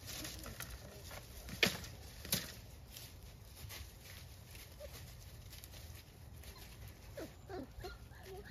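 Hovawart puppies play outside with quiet patter and scuffling paws, a couple of small yips or thumps standing out, all soft and close against a faint outdoor background.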